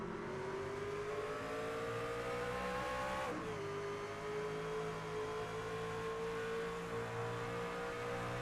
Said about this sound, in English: RPMs move up, but the truck doesn't.